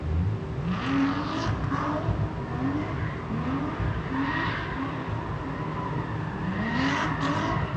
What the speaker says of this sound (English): That guy's doing donuts.